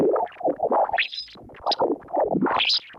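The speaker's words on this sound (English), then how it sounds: "This is the sound of the solar wind." Eerie electronic warbling with sweeping, swooping tones rising and falling in irregular bursts, separated by brief near-silent gaps.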